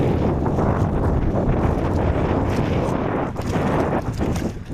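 Strong headwind roars continuously against the microphone on a boat on open water, a heavy rushing buffet with gusts.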